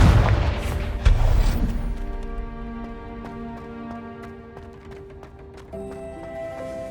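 A Confringo spell explosion in Hogwarts Legacy lands as a heavy low boom with a second thud about a second later, then fades into a ringing, tonal magical decay that swells slightly near the end.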